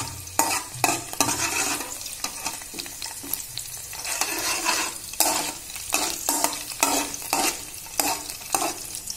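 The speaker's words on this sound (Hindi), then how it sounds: "तो ये देखिए लहसुन हमारा हो रहा है फ्राई" Garlic frying in a generous amount of hot oil, a continuous crackling sizzle punctuated by frequent sharp scrapes and clinks of a spatula stirring against the pan.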